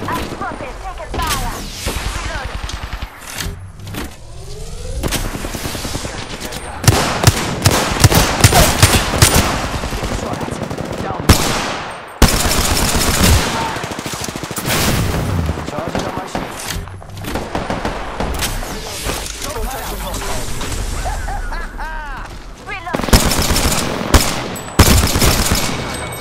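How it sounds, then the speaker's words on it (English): Dense bursts of automatic gunfire in the battle-royale video game Apex Legends, loud and rapid with short pauses, mixed with game effects and a character voice. "I'm spotted. Taking fire."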